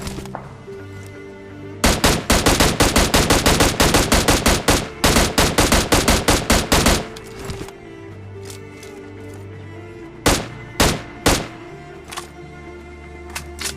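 Automatic gunfire in a shooter video game while finishing off an enemy: a loud, rapid sustained burst of shots, then a pause and a few separate single shots near the end.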